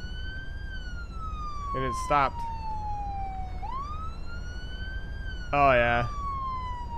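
An ambulance siren in the emergency-services game Flashing Lights wails in long, slowly sliding tones, steady and moderately loud, while players talk briefly over it.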